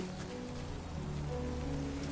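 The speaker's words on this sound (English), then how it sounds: "Great. Rain." Steady rain falling in the video game Death Stranding 2, a dense even hiss of drops with a low droning tone underneath, no talk.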